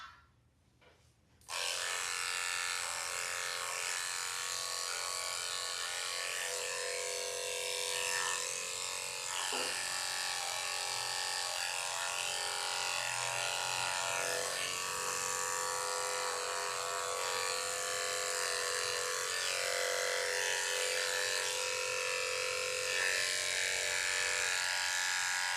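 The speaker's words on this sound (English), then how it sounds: "Let me finish shaving the pad first." Electric clippers buzz continuously and close up while shaving the paw pad of a King Charles Cavalier during grooming, a steady high whine that barely changes, with only a faint thump near the middle.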